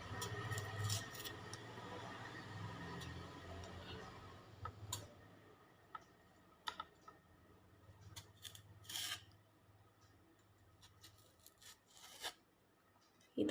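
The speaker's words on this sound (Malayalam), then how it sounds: "ഇതിൻ്റെ തൊലി ഇങ്ങനെ കട്ട് ചെയ്തെടുക്കുക." A knife scraping and cutting the peel off a green banana, quiet irregular rasps and small clicks close by, with a few sharper snicks near the end.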